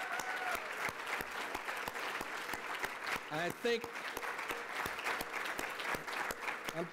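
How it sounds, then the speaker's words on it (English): Sustained applause from a graduation ceremony crowd, dense and steady clapping filling the room, with a voice briefly speaking over it. "Give them a round of applause."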